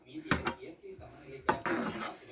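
A metal lid set down on a cooking pot of Kodal gravy, giving two sharp clanks a second apart, each with a short ringing tail, near and moderately loud in a home kitchen.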